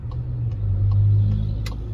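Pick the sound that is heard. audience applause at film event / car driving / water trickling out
car driving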